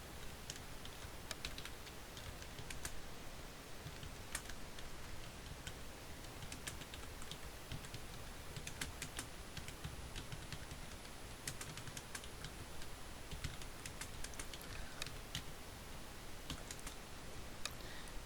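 Rapid keystrokes on a computer keyboard clatter continuously in a quiet room, irregular close clicks running without pause and no voices.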